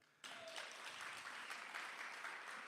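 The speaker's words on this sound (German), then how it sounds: "Kelly, ein Applaus für den." Audience applause breaks out suddenly after a short quiet moment, a full, even burst of many hands clapping that continues steadily to the end.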